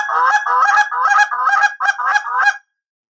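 A freshly reed-tuned goose call blown in a quick series of sharp, nasal honks, about seven bursts in a steady rhythm, loud and close before cutting to silence.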